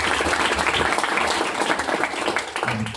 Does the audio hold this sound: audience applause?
yes